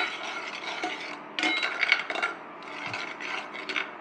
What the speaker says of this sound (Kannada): ರಘು ಸ್ವಲ್ಪ ಅಲ್ಲಾಡ್ಸಪ್ಪ